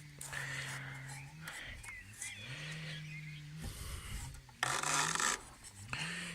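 Spatula scraping and cleaning gunk on a Honda HR-21 GV150 lawn mower: quiet, continuous rasping and rubbing strokes, close and faint, with a louder burst of scraping near the end and soft talk underneath.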